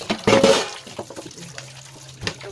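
Strong tap water gushes into a sink while dishes are washed, a loud burst of running water with clinks of plates, then a softer steady flow with a low hum.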